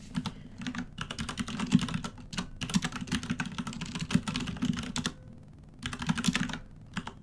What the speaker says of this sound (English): Sorry, I'm typing to that idiot.